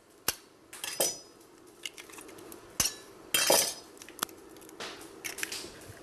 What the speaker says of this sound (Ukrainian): Розбиваємо 4 яйця.